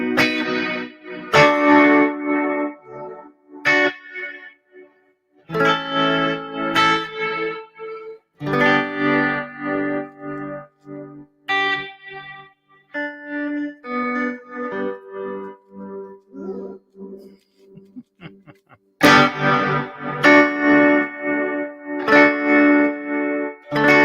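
Electric guitar played through a Dispatch Master reverb and delay pedal with the reverb set high, chords and single notes ringing out in bursts with cavernous, echoing tails between phrases.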